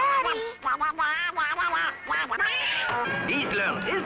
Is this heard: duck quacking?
yes